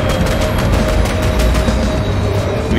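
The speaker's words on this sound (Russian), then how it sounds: "Видите, скорость стрельбы уменьшается." Continuous gunfire from the video game 2084, a dense, loud, rapid stream of shots filling the whole stretch with no pause.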